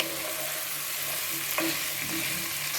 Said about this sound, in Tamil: ரெண்டு நிமிஷமாவது காய் நல்லா வதங்கணும்